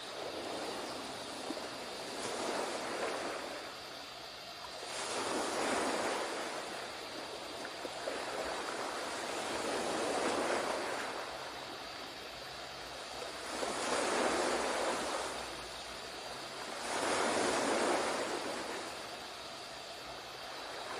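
Ocean waves surge and recede in a slow, steady rhythm, four broad swells building and fading over a constant wash of surf, close and full with no voices.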